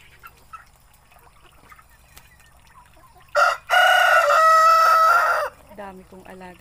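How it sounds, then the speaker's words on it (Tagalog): A pet rooster crows once, loud and close, at a countryside farm in the province, after a short clucking lead-in, followed by softer clucks from other chickens over quiet rural background. "Dami kong alagang manok."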